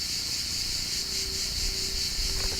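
Honeybees flying around a Flow Hive Adriatic with a Flow Super, making a steady close buzz throughout with no talking.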